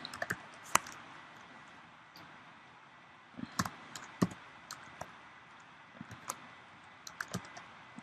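Typing on a computer keyboard in quiet surroundings, a few sparse clusters of crisp key clicks separated by pauses, close but faint.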